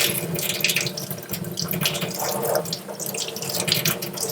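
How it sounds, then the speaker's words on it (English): Hot tap water runs steadily from a faucet as wild turkey feathers are rinsed in a sink, a loud continuous splashing stream with uneven spatters throughout and no voices. "I'm just going to take hot water and just rinse this off."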